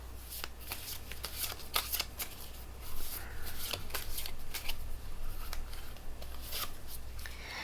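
A deck of tarot cards being shuffled by hand, with repeated crisp riffles and soft slaps close up over a steady low background hum, no talking.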